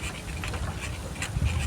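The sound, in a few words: dogs panting and barking near a goat-herding area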